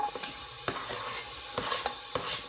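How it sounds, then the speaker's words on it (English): Onions fry in hot coconut oil, sizzling and crackling steadily in a pan, with occasional scraping and stirring knocks; no talking. "I've got some coconut oil frying on here."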